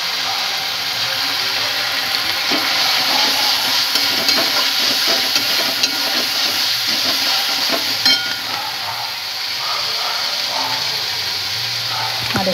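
Fish heads frying in hot oil with turmeric powder in a pan, stirred steadily for the whole stretch, a continuous sizzle layered with scraping and clattering utensil sounds.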